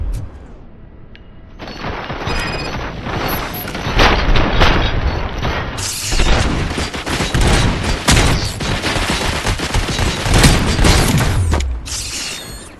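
Sustained gunfire and booming weapon blasts from the video game RoboCop: Rogue City, loud and dense bursts running almost continuously with mechanical clatter, a brief voice beneath the opening.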